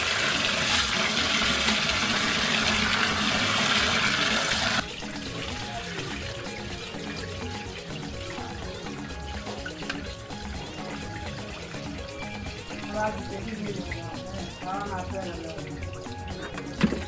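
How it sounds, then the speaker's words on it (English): Water runs and splashes as rice is rinsed for jollof, a loud steady gush at first, then softer swishing and sloshing as the grains are stirred, with a voice talking over it. "For the rice, wash it for about 3 to 4 times with salt or until the water is a bit clear."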